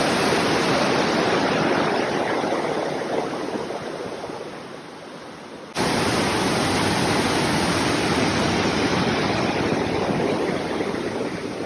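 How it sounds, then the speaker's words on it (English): Waterfall at Cloud Bridge Reserve in Costa Rica roaring as a steady, dense broadband rush, close and loud throughout, dipping briefly in level midway before resuming. "I'm at the waterfalls at the Cloud Bridge Reserve."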